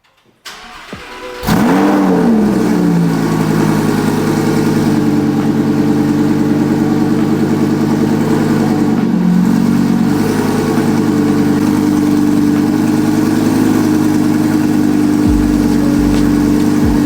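A modified Lamborghini Huracan engine cranks and fires up loudly after a brief moment of quiet. It then settles into a steady, rumbling idle with occasional revs, close and alone.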